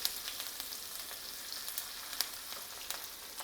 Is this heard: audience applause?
no